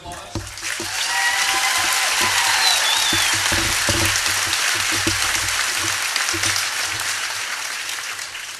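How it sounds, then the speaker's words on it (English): Sustained applause from a graduation ceremony audience for Douglas seniors, a loud, steady wash of many clapping hands filling the space with a few voices beneath, holding level for the whole stretch and easing slightly toward the end. "Give them a round of applause."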